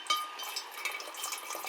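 River water pouring from a filter bag into a jug, a steady splashing trickle heard up close over 1.7 seconds with no talking.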